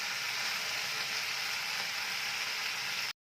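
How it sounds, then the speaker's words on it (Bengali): Sliced okra fries in a pan while being stirred, a constant loud sizzling hiss that cuts off abruptly near the end, with no voices. "তো এখন এটাকে আমি অন্তত 1 মিনিট ভালো করে নাড়াচাড়া করে ওপর নিচ করে"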